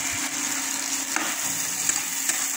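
Tomatoes frying in a pan, a steady close sizzle with light stirring scrapes and a few soft clicks throughout, no voices.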